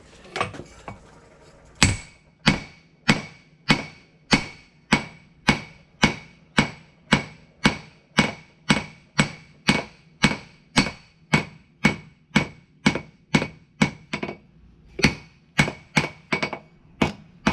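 Hot steel is hammered on an anvil while a patch knife is forged. About thirty loud, ringing hammer blows fall in a steady, even rhythm, close and with no talk, after a few quieter taps at the start.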